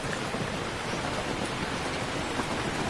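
Steady rain pours onto a saung, a small open farm shelter, a dense even hiss with no talking and no breaks.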